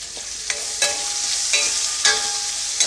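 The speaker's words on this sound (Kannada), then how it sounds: "ಈರುಳ್ಳಿನ ಸ್ವಲ್ಪ ಚೆನ್ನಾಗಿ ಫ್ರೈ ಮಾಡ್ಕೊಳ್ತೀನಿ" Onions and mild green chillies frying in a pan, a steady bright sizzle with a few louder stir-scrapes spaced through it, close and continuous, no voices.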